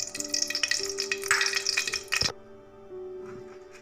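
Oil poured into a hot pan while cooking Tamil-style tomato chutney: a bright, broadband sizzle and splash for about two seconds, then cutting off into a quiet, fainter hiss.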